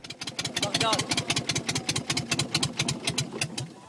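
Small outboard motor on a migrant boat off the Turkish coast runs in a steady, rapid chugging pulse, loud and close throughout.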